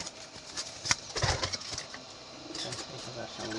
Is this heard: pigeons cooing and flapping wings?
yes